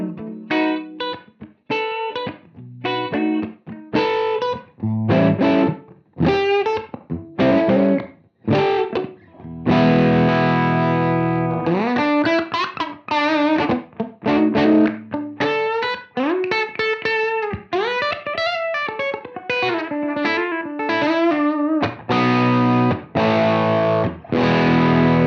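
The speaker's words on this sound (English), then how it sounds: "So this is running an EP Echoplex style boost into the front of the amp." An electric guitar plays through a UAFX Lion '68 Super Lead amp with an Echoplex-style boost in front, sounding crunchy and distorted with choppy chords, then longer sustained riffs and lead lines.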